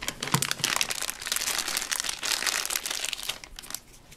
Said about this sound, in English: So first, we're gonna unwrap the Play-Doh.